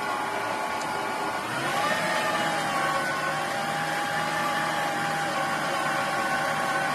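An electric dough mixer kneads tortilla dough with a steady motor whir. Its tone shifts slightly lower partway through, then holds as a continuous even hum throughout.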